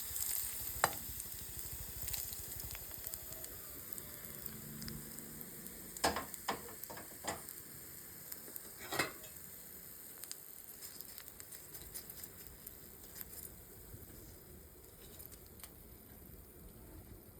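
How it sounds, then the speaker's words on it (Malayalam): A tempering of onion, dried chili and curry leaves crackles and sizzles in a pan for a vendakka pachadi. Faint, with scattered sharp pops and a few stirring scrapes, and no voices. "അങ്ങനെ ഞാൻ ആ വറവലും ഇടുവാണ്."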